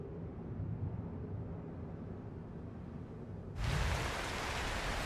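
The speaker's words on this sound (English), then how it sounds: "And it's raining now, too" Rain in the video game Cairn sets up a steady low hiss that suddenly swells into a brighter, louder downpour partway through, with no voices over it.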